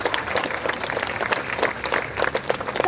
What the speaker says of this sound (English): Give a big round of applause and a cheer.